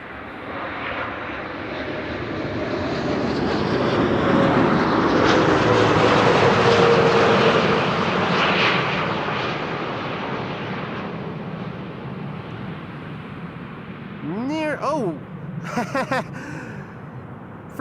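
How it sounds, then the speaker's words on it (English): An Airbus A330, Delta Airlines flight 48 from New York JFK, lands at Amsterdam Schiphol Airport with a firm main-gear touchdown; the broad jet roar swells, peaks loudly, then slowly fades before someone talks over the trailing rumble. "I'm seeing a main gear touchdown that wasn't very smooth for an A330"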